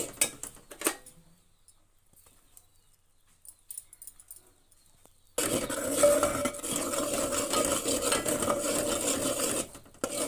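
Sesame chikki mixture being stirred with ghee in a pan; after a quiet start, steady scraping and stirring sounds come in partway through and carry on continuously up close, with no talking.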